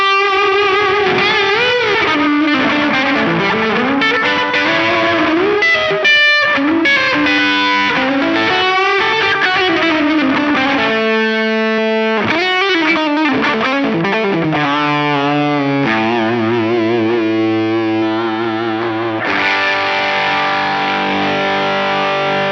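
An electric guitar played through the AC booster drive effect on a NuX MG-30 multi-effects unit, a continuous loud, driven tone of melodic lines and strummed chords with no pauses.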